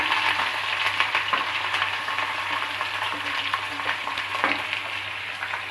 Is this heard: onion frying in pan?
yes